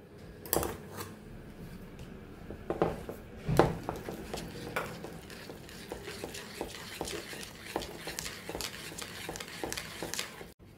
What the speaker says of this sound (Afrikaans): En dan gaan ek dit net gou goed deurklits.